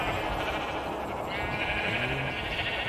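A sheep bleats in Minecraft, one clear wavering bleat over a steady background hum.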